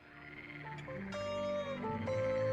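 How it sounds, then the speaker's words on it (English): A frog croaks in a stylized, tonal call with stepping pitched notes over a rising background, clear and alone with no speech. "This frog sound will wake up the sleeping tadpoles."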